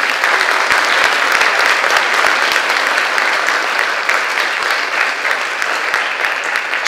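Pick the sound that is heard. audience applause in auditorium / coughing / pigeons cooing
audience applause in auditorium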